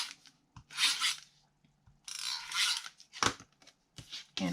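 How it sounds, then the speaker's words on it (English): Tape runner laying adhesive onto scrapbook paper mats, heard as close, bright rasping strokes in short bursts separated by quiet pauses and small clicks. "I am going to use my tape runner"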